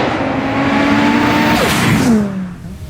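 A tuned 2026 Audi RS3 Sportback 8Y with its turbocharged five-cylinder engine revs loud and near, the pitch climbing through a sustained rasping surge and then dropping away as the throttle closes.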